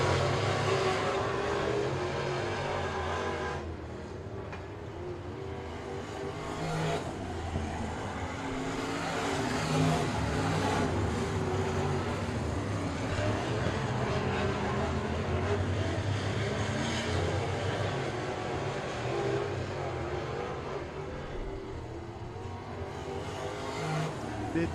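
Star Mod Lites race cars lap Heart O' Texas Speedway in a distant, continuous engine drone that rises and falls as the pack circles, heard from afar with a broad roaring wash.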